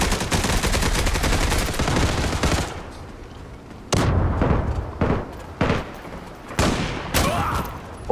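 Rapid gunfire from the Turkish-made online shooter Zula, a dense sustained burst of shots followed by several separate loud bursts and single cracks, close and loud with no talking.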